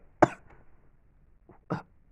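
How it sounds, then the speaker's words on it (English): Two sharp coughs, one at the start and another about a second and a half later, close and fairly loud with a faint throat sound between them. "As I would begin to cough."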